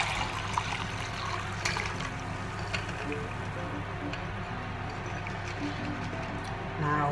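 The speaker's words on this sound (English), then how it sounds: "So I'm going to strain that liquid off." Soaking liquid from conkers, steeped half an hour in just-under-boiling water, is strained off in a steady close trickle and splash that runs continuously for several seconds, with no talking.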